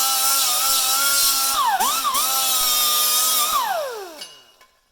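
A power grinder deburrs plasma-cut sheet metal, a loud, steady whine of the spinning tool that dips and wavers as it bites the edge, then winds down at the end.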